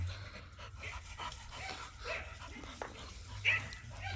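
Dogs out in a yard pant quickly and steadily nearby, with faint whimpers or snuffles mixed in and a low outdoor hum beneath, no talk.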